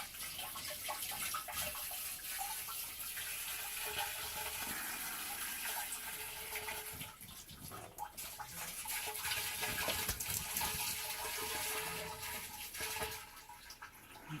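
Water mixed with a little vinegar and oil poured down a basement floor drain, a faint continuous splashing and gurgling pour that swells slightly midway, with no talk.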